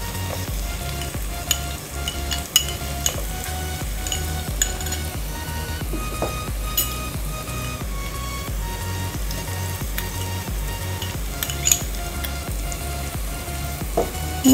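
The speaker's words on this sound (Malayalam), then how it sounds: "ഇനി ഇതിൻ്റെ പച്ചമണം മാറുന്നോളം വരെ നമുക്ക് നന്നായിട്ടൊന്ന് വഴറ്റിയെടുക്കണം" Onion, garlic and ginger sautéing in a pan for tapioca biriyani, with a steady close sizzle throughout, punctuated by the scrape and clink of a stirring spoon against the metal, and no voices.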